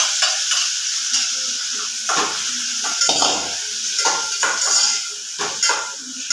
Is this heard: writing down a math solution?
no